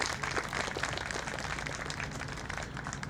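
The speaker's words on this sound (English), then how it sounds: "let's give everyone involved with the parade and the festival a big round of applause" Outdoor crowd applause at a Veterans Day parade and festival, steady muffled clapping continuing throughout at moderate distance.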